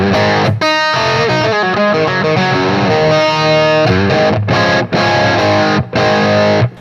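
A heavily distorted electric guitar plays a riff of short chugging notes and chords, loud and close, with brief gaps between phrases.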